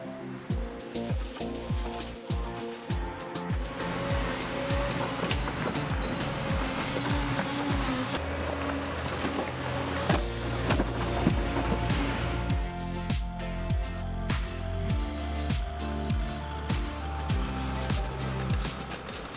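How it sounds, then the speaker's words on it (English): Skid steers and excavators grading a house demolition site, a continuous loud engine roar with clanking and scraping machinery, plus deep rumbling and rhythmic knocks in the later part. "Using skid steers and excavators, we grade the site."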